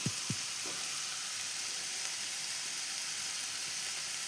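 Onions frying with chili and masala powder in a pan, a steady sizzle throughout with a few stirring knocks of the spoon at the start.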